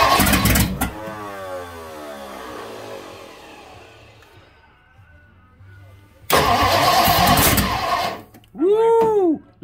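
A 1958 Ford Thunderbird engine cranks and catches in a burst, fades into a rough idle, then roars again in a loud rev followed by quick throttle blips, recorded close up.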